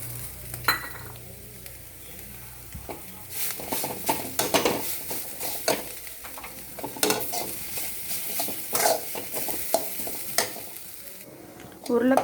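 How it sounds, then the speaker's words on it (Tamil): Boiled potatoes being mashed and stirred into a sizzling vegetable mix in a pan for a veg bread sandwich filling, with repeated scraping and clinking of a spoon against the pan over steady frying, no talking. "உருளைக்கிழங்கு போட்டு நல்லா மசிச்சாச்சு"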